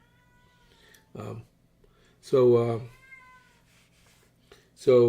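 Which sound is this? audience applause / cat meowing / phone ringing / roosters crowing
cat meowing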